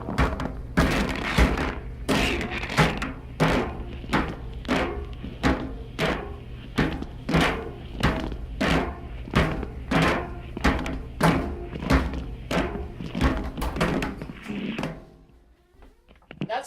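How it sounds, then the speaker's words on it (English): Repeated heavy thuds and clunks tumbling in a steady rhythm as a wet iPhone 5 in an Otterbox Armor case knocks around inside a spinning clothes dryer drum, stopping near the end. "Now my phone's soaking wet, so let's try out the dryer."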